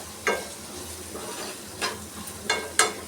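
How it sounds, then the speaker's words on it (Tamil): Vegetables sautéing with turmeric and salt give a steady low sizzle in the pan, broken by four short scraping strokes of a spatula, close and fairly clear. "மஞ்சள் தூள் போட்டாச்சு உப்பு இது வதங்கிறதுக்காக போட்டாச்சு கொஞ்சம் அப்படியே வதங்கட்டும்"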